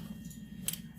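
Scissors snipping bowstring serving thread while restringing a Hoyt Ruckus bow, a single short, sharp cut close up over a steady low hum.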